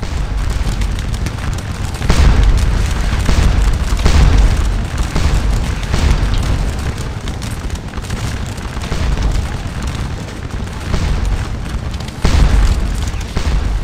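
Cannon fire of canister shot booms across a Napoleonic battlefield at Waterloo in Scourge of War: Waterloo, with repeated heavy low blasts and rolling rumble under continuous loud battle noise.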